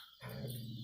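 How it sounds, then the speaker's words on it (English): Dog across the street barking and growling, a short rough burst starting abruptly and fairly near, with no talk. "There's a dog across the street. He's trying to say hi or growl at him or something."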